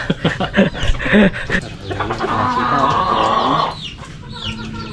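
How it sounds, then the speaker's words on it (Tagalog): A rooster crows loudly and close by, a long drawn-out call following a few short clucks, with background noise from people nearby. "At tumilaw yung manok."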